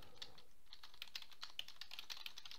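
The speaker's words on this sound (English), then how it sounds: "All right, so we type that in and now we press enter." Keys tapped on a computer keyboard in a quick, light run of clicks, close but faint, with no talk.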